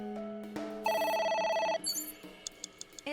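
Telephone rings repeatedly during play of the AI: The Somnium Files video game, a loud steady electronic bell tone lasting about a second among softer game chimes, with no talking.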